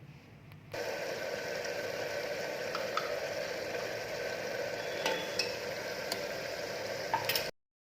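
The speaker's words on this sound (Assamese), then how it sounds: "শেষত দিয়া ঘিউখিনি ভালদৰে মিহলি হ'বৰ বাবে হেতাখনেৰে ভালদৰে লৰাই দিছোঁ" Ghee stirred into carrot halwa with a spatula in a pan on the stove, giving a steady soft sizzle with scattered faint ticks and scrapes. The sound holds at an even level, then cuts off abruptly at the end.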